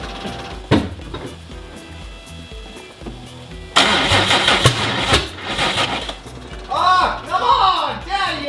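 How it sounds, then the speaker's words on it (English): A car engine cranks and catches after an ECU setting change, with a broadband burst of cranking and revving in the middle, then quieter running under some talk. "Let me try turning the car over."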